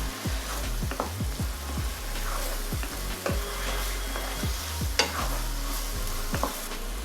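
Macaroni stirred with paneer and butter in a pan for an easy paneer macaroni dish, with repeated rhythmic scraping strokes of a spoon over a soft, continuous sizzle, close and alone.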